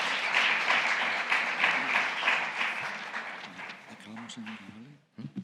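An audience claps at a talk on digitisation held at Spain's state archives, the applause strong at first and gradually thinning out, with a voice emerging near the end.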